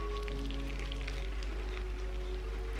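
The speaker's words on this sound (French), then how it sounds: "Je sais pas si vous entendez la pluie là, il pleut bien." Rain falls steadily outside, heard faintly from indoors in a kitchen as a soft, even hiss over a low background hum.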